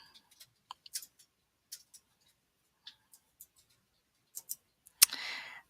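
Light mouse clicks on a button in Microsoft Word, a dozen or so soft, scattered ticks spread over several seconds with no voice, ending in a sharper click followed by a brief hiss.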